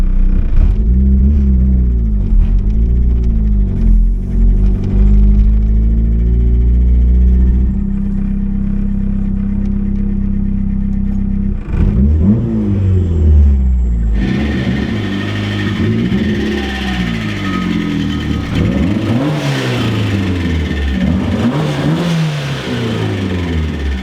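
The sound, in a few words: turbo 1.6L Miata engine accelerating while driving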